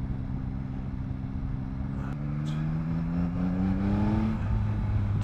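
A 2021 Yamaha MT-09 motorcycle riding with a steady engine drone that climbs in pitch through quick gear shifts, with a brief shift click midway and a slight rise in loudness.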